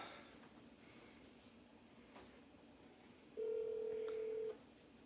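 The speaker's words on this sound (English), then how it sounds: "Pick up, Joe. Come on, Joe" A phone line tone sounds once, a single steady ring-back burst of about a second, while calling a fantasy football league member; it sits over a quiet, hissy background.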